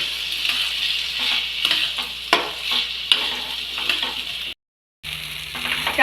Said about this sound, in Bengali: এবার সব কিছু মিশিয়ে আমি ভালো করে ভাজবো